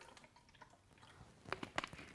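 Dasani bottled water poured onto sesame oil, heard as a few close, faint drips and liquid splashes that cluster near the end.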